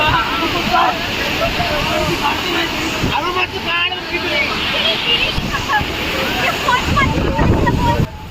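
Powerful monsoon waterfall at Mangeli throwing out spray, a loud broadband rushing roar with wind buffeting the microphone, and a voice talking over it at close range.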